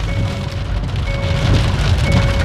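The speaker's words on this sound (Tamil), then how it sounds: "இங்கிட்டு நல்ல மழை பெய்யுது" Heavy rain pours steadily during a thunderstorm in Thoothukudi, heard as a dense, constant roar on surfaces from close by, with faint tonal beeps running through it.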